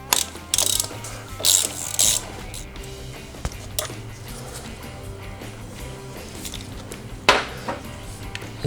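A ratchet clicks in quick bursts while tightening a nut on a 1991-2003 Harley-Davidson Sportster charging system, with several rapid rattling strokes separated by pauses, close and fairly loud with faint metallic handling noise between.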